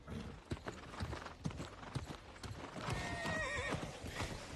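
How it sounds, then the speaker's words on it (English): Horse hooves clip-clop in a quick, uneven rhythm close by, and a horse whinnies near the end over a faint mechanical rattle. "Clippity clop, clippity clippity clippity clop."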